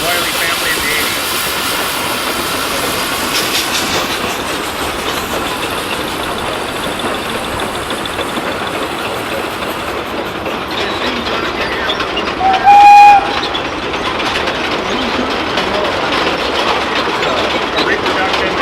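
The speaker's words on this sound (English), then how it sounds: "1906 Advanced 22 horsepower steam tractor, driven by Jim McIntyre." A 1906 Advance 22-horsepower steam tractor runs at a Pioneer Day event, a steady mechanical chugging rumble under continuous talk, with a brief whistle-like tone partway through.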